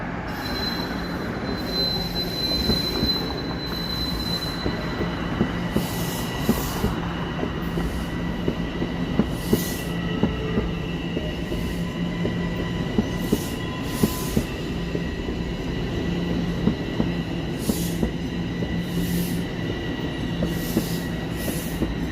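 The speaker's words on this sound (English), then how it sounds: "I hear the train a-coming. It's coming around the bend." A train on a Toronto subway line rolls in with loud, sustained wheel squeal and rhythmic clattering over the rails, continuous and close for about twenty seconds.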